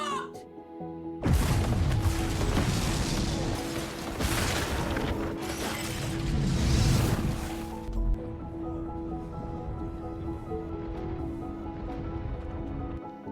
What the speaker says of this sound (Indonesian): Pada saat polisi melakukan pengejaran, bom pun meledak.